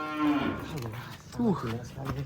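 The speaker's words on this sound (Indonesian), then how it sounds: "Pel, kamu ditantang naik sapi ini, Pel." A cow moos twice in a rural village setting, a long low call near the start followed by a rising, wavering moo midway, fairly close and loud against faint background noise.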